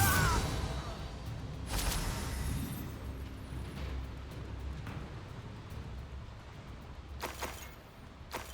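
Blasting spell explosions go off in Hogwarts Legacy, a roaring rumble with sharp bursts near the start, around two seconds and again past seven seconds, over a steady low-frequency wash.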